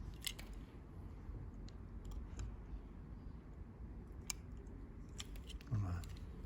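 A dental instrument carving a wax block for an upper premolar sculpture, making faint, close scraping clicks and small crunchy cuts in short bursts over low background noise, with no talk.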